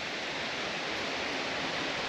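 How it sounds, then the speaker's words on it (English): Wind rushing through many trees on a woodland walk, a steady, broad, unbroken roar with no distinct gusts or voices. "that's just like the accumulated sound of the wind going through all of the trees"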